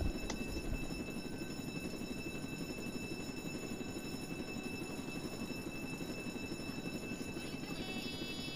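Helicopter rotor drone from the Roblox game Jailbreak, a steady loud whir holding for the whole stretch with a brief click near the start and no talking over it.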